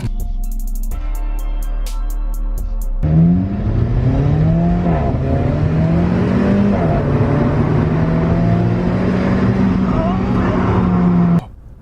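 An Alfa Romeo Stelvio Quadrifoglio engine is heard up close, first with a few sharp blips, then a loud sustained rev that climbs through the gears, with a brief shift dip partway, before cutting off.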